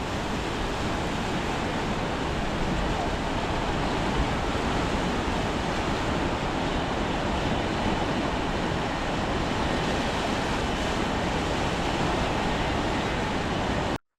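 The Ganga river rushes past at Haridwar before dawn, a loud, unbroken broadband roar of flowing water that stays steady throughout with no voices.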